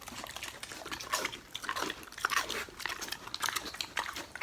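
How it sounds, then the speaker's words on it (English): Mini pigs chewing and crunching food up close, wet irregular bites and mastication repeating steadily with no talking. "I think it's really cute when they just chew and chew and chew like that"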